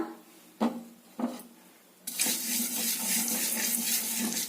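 Chillies and cumin seeds go into hot oil on a low gas flame while chilli pickle is made: two soft drops, then a sudden loud, steady crackling sizzle that carries on to the end, with no voices.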